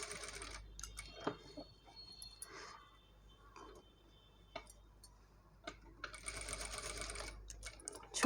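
Sewing machine stitching a frock, running in steady bursts with short pauses between runs as the fabric is set, loud and close with no talk over it.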